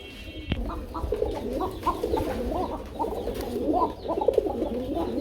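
Pigeons offered for sale coo repeatedly up close, a run of soft, throaty calls following one another over a steady background murmur, after a sharp knock at the start.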